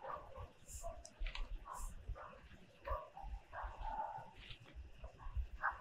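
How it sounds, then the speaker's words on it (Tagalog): Several dogs barking and yipping around an isolated house in a forest near abandoned military barracks, scattered barks of varying distance through steady background noise, with people talking intermittently. "Daming aso."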